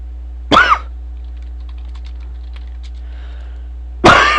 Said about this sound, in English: I'm coughing too much.